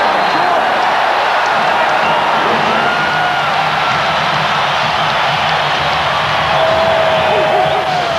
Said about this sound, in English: Standing ovation from this capacity crowd in Chicago